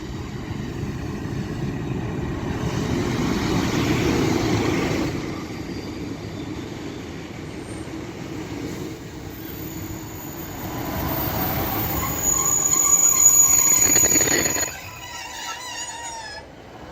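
A diesel multiple unit combination passes on the Rochdale to Clitheroe line at Castleton, its engine and rolling rumble swelling and fading in waves, with a high wheel squeal near the end.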